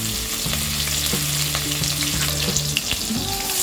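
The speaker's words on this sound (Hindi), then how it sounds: "तेल गरम हो गया है। अब हम इसमें डालेंगे 1 टीस्पून जीरा, 1/4 टीस्पून हींग, 2 ग्रीन चिलीज फाइनली चॉप्ड" Cumin, asafoetida and finely chopped green chillies sizzle steadily in hot oil, a continuous close crackling fry with small pops and a faint stirring scrape, no voices.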